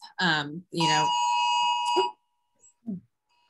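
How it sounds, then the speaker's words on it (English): A smartphone emergency alert sounds as a loud, steady electronic tone lasting over a second, following a brief burst of a voice, with faint speech afterward. "probably all of you just got an emergency alert on your phone too"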